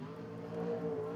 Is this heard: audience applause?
no